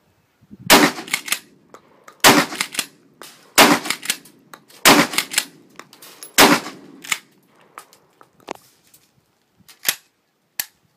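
Shotgun firing 24-gram birdshot cartridges at a target, about eight sharp, loud reports spaced irregularly a second or so apart, each followed by a short echo, with no talking.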